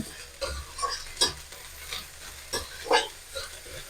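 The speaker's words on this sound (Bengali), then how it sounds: "আদা রসুনটাকে একটু ভেজে নেব।" Ginger and garlic sizzle in a hot pan with a few louder scraping stirs at irregular moments, steady and close, with no voices.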